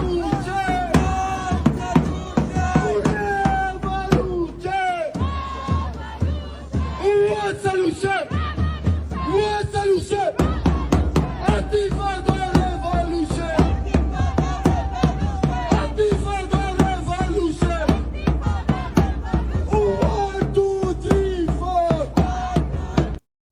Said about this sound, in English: the crowd in Michigan chanted for an uprising against America